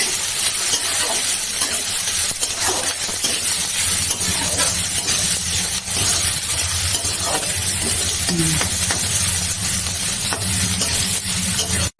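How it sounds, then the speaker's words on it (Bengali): Continuous loud sizzling of goat meat frying in hot oil, with occasional stirring scrapes and crackles, close up and steady throughout. "গরম করে একটু ভালো করে ভাজবে বুঝলো ভাজা ভাজা হোক"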